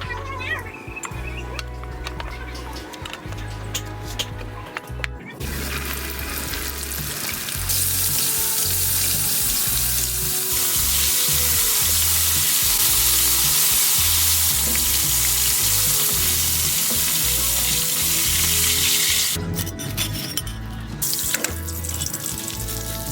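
Fermented catfish, pla som pla duk, fries in hot oil with a loud, steady sizzle that swells and holds across most of the stretch, while low rhythmic music thumps beneath it throughout.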